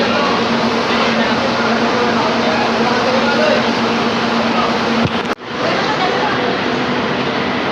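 A loud, steady rumble and roar of a passing light rail train, close by, continuing throughout with a brief dip partway.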